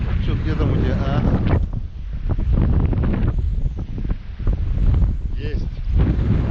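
Strong wind buffets a microphone on an open shore while perch fishing, with loud roaring gusts rising and falling throughout and voices talking under the noise.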